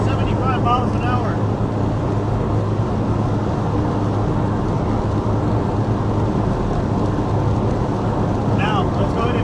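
A 1988 Ford Festiva cruising at about 75 mph, with steady, loud road and wind roar filling the cabin continuously and no break in the drone.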